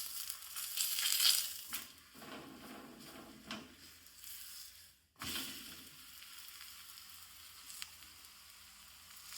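Bottle gourd thepla sizzles in oil on a hot griddle in a village-style kitchen. The hiss is faint but steady, with louder crackling bursts at the start and mid-way and a brief dip to near silence, and no talking.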